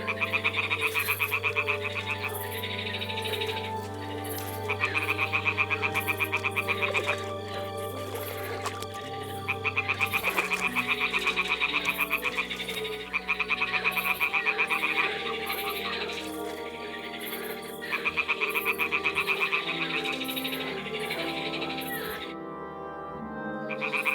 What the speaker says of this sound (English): toads are croaking here, there's a nest